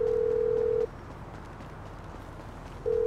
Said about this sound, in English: who changed my ringtone?